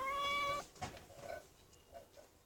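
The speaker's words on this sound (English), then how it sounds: "Those little pesky kittens." A small kitten lets out one clear, high meow up close, followed by soft rustling and quiet room noise.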